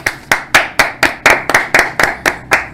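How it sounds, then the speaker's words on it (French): Audience on a TV talk-show set claps hands in a steady, evenly spaced rhythm, about ten sharp, loud claps with no talking. "Kinbi, ça s'applaudit."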